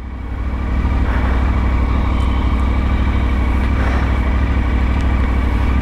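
A motorcycle engine, just started and idling fast, runs steadily up close with a deep, loud, even throb. The sound holds at a constant level, with no speech over it.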